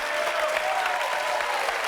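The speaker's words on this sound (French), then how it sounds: "je crois qu'on peut l'applaudir" Studio audience applause for a guest on a French talk show, continuous even clapping from a crowd, a faint tone running beneath it.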